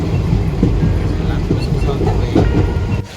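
The 15663 Silchar Express passenger train runs from Agartala toward Silchar with a loud, close, continuous rumble, punctuated by rhythmic clickety-clack of wheels over rail joints.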